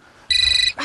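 A telephone rings with one short, loud electronic trill of pulsing tone in a household scene, abruptly cut off before a voice begins.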